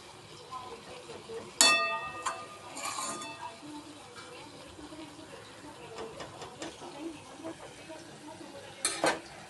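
A spoon stirs fenugreek greens with turmeric and red chilli in a pan, soft scraping with a few sharp clinks of metal, quiet and close.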